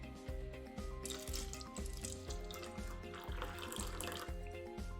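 Electrolyzed reduced water pours from a tap onto a tea bag, a continuous splashing run of liquid with faint rhythmic knocks beneath, quiet and close, no talking.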